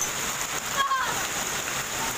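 Heavy hail pours down during a severe hailstorm in Delhi, with hailstones reaching inside a house, making a dense, constant hissing clatter close by, and a voice is faintly present underneath.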